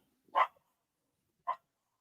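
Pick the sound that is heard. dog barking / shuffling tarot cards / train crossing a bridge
dog barking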